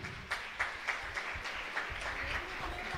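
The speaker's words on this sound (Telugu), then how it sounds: "Let us clap for Ramya Sanjeevan for backing up the second prize solo." An audience at an inter-church singing competition prize distribution claps for a second prize winner, a moderate, fairly thin round of applause with a few sharper claps standing out, steady throughout.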